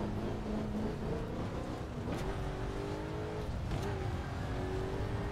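A Saleen S7 with nitrous accelerates hard on a dirt track, a continuous loud engine roar whose pitch climbs through the gears in rising sweeps, dense and close throughout.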